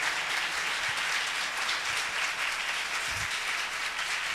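Congregation at a church Bible study applauding, a sustained dense wash of clapping from many hands, even and loud for several seconds.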